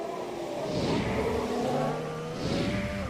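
Formula 1 race car at the Singapore Grand Prix, a high steady engine whine with rising and falling pitch through gear changes, loud and close as if on board, no talking.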